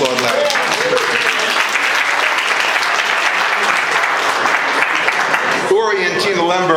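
Loud, sustained applause fills a reception hall for an anniversary celebration, dense clapping from many hands that holds steady for several seconds before a voice begins speaking near the end.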